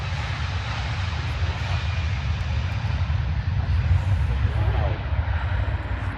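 A Turkish cargo plane's engines roar at Stansted airport, a loud, steady rumble that fills the whole stretch, close and continuous.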